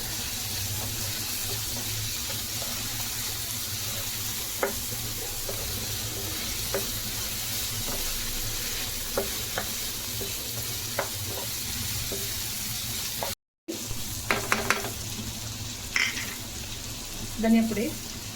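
Curry leaves dropped into hot oil in a pan with radish, tomato and salt, giving a steady close crackling sizzle with scattered light pops, and a brief stir near the end.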